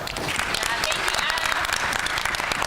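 An audience in a church conference workshop room claps loudly and steadily, a dense burst of hand clapping from a nearby group with a voice speaking over it.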